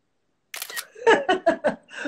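A camera shutter fires several times in quick succession during a live session, a rapid series of crisp clicks after a brief mechanical snap, close and clear.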